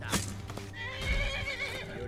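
A horse in the Skyrim video game neighing loudly in a drawn-out whinny, with hoof clip-clops and game sounds around it.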